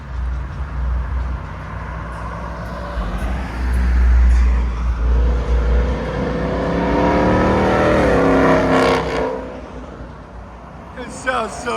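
A 2019 Ford Mustang GT with a 5.0L V8, H-pipe and Borla S-Type exhaust revs hard in track mode, its loud, rising engine roar swelling and falling across the span while a voice talks over it.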